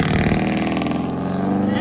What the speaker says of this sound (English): Dodge Durango HEMI V8 straight pipe with 6-inch tips.